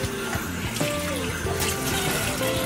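Water runs steadily from a tap into a sink as a face is rinsed during a skincare routine, a continuous close splashing with faint background sounds throughout.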